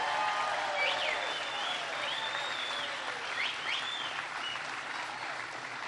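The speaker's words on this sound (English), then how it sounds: "Please give them a big round of applause." A town hall crowd gives loud, sustained applause for the host family, dense clapping filling the room with a few whoops and cheers rising over it.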